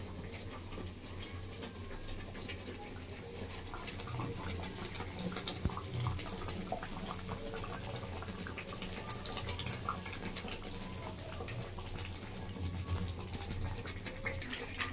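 Rohu fish in poppy seed gravy boils down in a pan, its thickening liquid giving a soft, continuous bubbling and popping at low volume with no one speaking.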